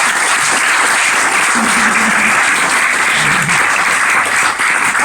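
Audience applause at an on-stage presentation evening, steady dense clapping filling the whole stretch at close range with no talk over it.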